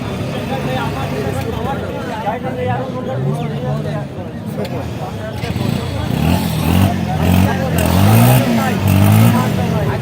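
A Yamaha RX 100cc motorcycle at a busy motorcycle market (hat) in Alamdanga idles and revs steadily, its engine drone running under close talk and crowd babble throughout.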